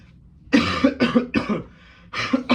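Several harsh, close coughs from a person with a cold and fever come in quick succession, a short pause, then another cough follows.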